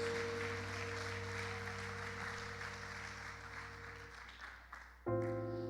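A church congregation applauds during a sermon, a diffuse spread of clapping mixed over sustained organ or keyboard chords that thin out and then swell back suddenly near the end.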